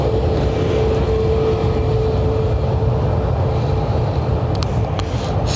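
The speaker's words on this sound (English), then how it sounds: "So this Ryanair is off to Berlin." Ryanair airliner departing Lanzarote Airport, a steady broad jet roar heard from a distance with a faint sustained whine, constant in level with no talk.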